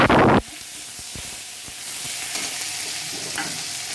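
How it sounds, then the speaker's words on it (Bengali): Panch phoron and a dried red chilli hit hot oil in a kadai with a loud burst of hissing, then settle into a quieter, continuous sizzle with a few stirring knocks. "একটু গরম কড়াইয়ের মধ্যে তেল দেবো একটু বেশি করে, দেবো 5 ফোড়ন, একটা শুকনো লঙ্কা"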